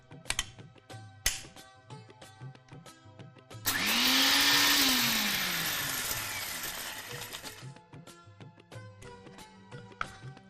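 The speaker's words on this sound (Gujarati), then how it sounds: "સૌથી પહેલા આપણે જે પૌવા છે એને મિક્સરમાં ક્રશ કરી લેશું" A kitchen mixer grinder runs for about four seconds, a loud whirring roar with a falling motor pitch, crushing half a cup of flattened rice (poha) coarsely, framed by clattering and knocks before and after.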